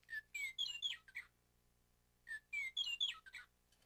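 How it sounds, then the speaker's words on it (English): Two bursts of bright, whistled bird chirps, each a quick run of rising and falling notes, separated by a short pause; clear and fairly close. "See the bright bird and hear her call."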